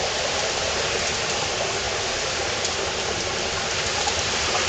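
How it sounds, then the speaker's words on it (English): A waterfall drops into a crevice inside Skylight Cave in Cape Breton, a loud, unbroken broadband roar filling the space with no voices. "this is where the waterfall is dropping, where I'm standing"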